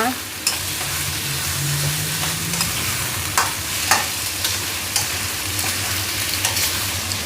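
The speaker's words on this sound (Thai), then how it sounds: "ตอนนี้เรา ทอดด้วยไฟแรงนะคะ" Marinated pork with garlic fries in a wok over high heat, a steady loud sizzle running throughout with occasional clinks and scrapes of a spatula stirring the meat.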